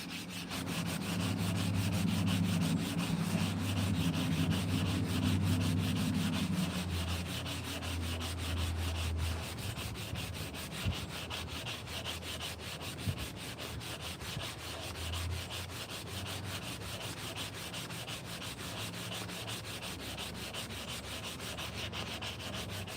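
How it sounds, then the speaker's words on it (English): Steady, close rasping of sandpaper rubbed back and forth over a hand-carved wooden spoon, louder and fuller at first, then continuing evenly as a lighter scratchy rub for the rest of the time. "We'll probably be able to sand it right out."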